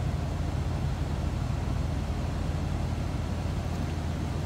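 A 1978 Cadillac Sedan DeVille engine idles with a newer exhaust from the catalytic converter back, giving a low, steady, even rumble with a smooth hiss on top and no talking.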